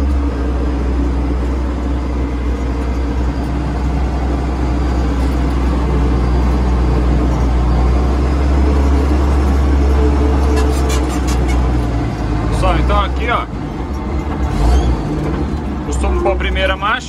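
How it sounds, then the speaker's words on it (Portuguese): A Komatsu WA 180 wheel loader rolls downhill in second gear, its diesel engine giving a loud, steady low rumble throughout, with someone talking over it from the cab. "Aqui eu tô descendo em segunda marcha."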